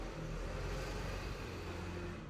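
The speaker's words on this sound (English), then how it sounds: "There's a loud truck that just drove by." A loud truck drives past close by, producing a steady, heavy broadband rumble with strong low end that holds evenly for the whole couple of seconds, with no talking over it.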